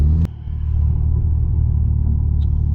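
A Stage 3 tuned Golf R MK6 with a VUDU 450 bhp setup rumbles as it pulls up, a deep, loud engine drone heard from inside the car after a sharp click, steady and without speech.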